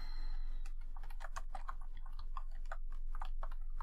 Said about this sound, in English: I'm typing in the notes.